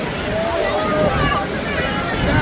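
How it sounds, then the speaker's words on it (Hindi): Water at Kempty Falls in Mussoorie pours in a steady, loud, close rush with splashing. Someone talks over the continuous roar. "तो भाई फर्स्ट टाइम वाटरफॉल के नीचे जा रहे हो"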